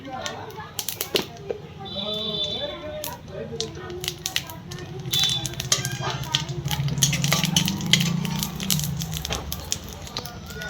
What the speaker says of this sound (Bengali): দেখো আমি হচ্ছে জিরা ফোড়ন দিয়ে দিলাম